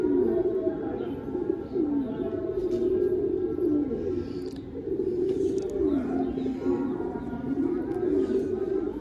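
Continuous low, rolling pigeon coos repeat throughout, close by and fairly loud, with faint chirps and background murmur.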